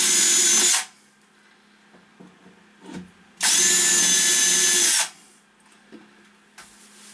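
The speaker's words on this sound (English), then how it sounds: "I have a centering bit that we'll use to center our holes" A power drill with a centering bit whirs loudly in two bursts, one short and one longer, with quiet handling clatter between them.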